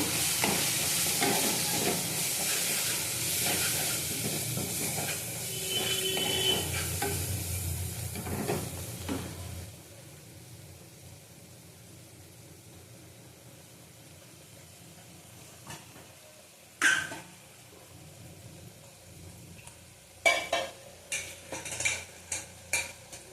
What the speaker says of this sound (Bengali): লঙ্কার গুঁড়ো দিলাম, কাশ্মীরি লঙ্কার গুঁড়ো। এবার ভালো করে কষিয়ে নেব।